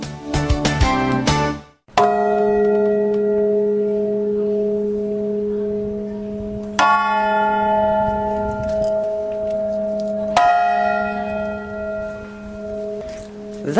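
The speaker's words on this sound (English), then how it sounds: "That is the sound of a bell that you will see if you wander into the buffer zone in Nicosia" A large bell in the Nicosia buffer zone, Cyprus, strikes three times, each clang ringing out with a long sustained hum that fades slowly between strikes, loud and alone.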